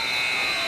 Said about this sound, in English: Allen, three-quarter court shot at the buzzer